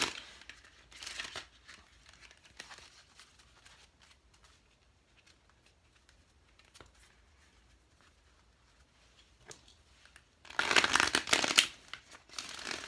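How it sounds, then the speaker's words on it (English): A Dreams of Gaia tarot deck is shuffled in quick bursts: a few soft riffles early on, then a louder dense riffle near the end, with quiet gaps between. "I'm going to shuffle, shuffle, shuffle, shuffle, shuffle to get them all nice and mixed up."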